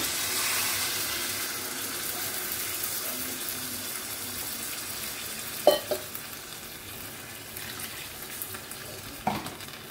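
Water poured into a pan of sizzling pork curry spices makes a steady hiss and bubbling roar, with two brief sharp clatters partway through.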